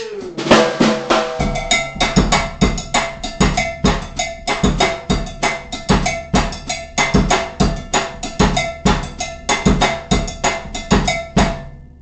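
A faster cumbia beat on a drum kit, the snare played cross stick, with sharp rhythmic clicks, a pulsing bass drum and ringing metallic hits, loud and close, running continuously without talk.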